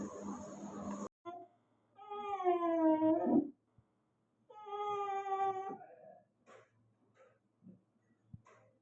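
Oreo, a pet cat waiting at a door, lets out long, wavering crying meows, two drawn-out wails with a few short, faint sounds between them, close and loud with no talking.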